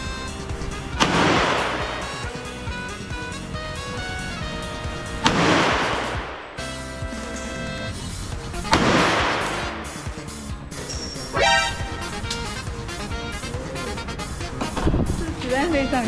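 Live gunfire at a shooting range in Pattaya, Thailand: several loud, sharp single shots spaced a few seconds apart with echoing decay, while people talk throughout.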